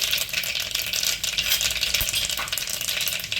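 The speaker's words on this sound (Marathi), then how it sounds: "तेल चांगलं तापलं आहे आपण याच्यामध्ये मोहरी घालूयात सगळ्यात पहिले" Mustard, cumin, coriander and fennel seeds hit hot oil in a pan for tempering, giving a loud, dense, steady sizzle with fine crackling and popping throughout, close by and with no voices.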